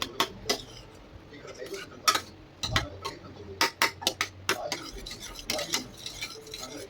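A metal ladle stirs cooked dal with tamarind in a pot, giving irregular close clinks and scrapes against the vessel with a soft bubbling base underneath.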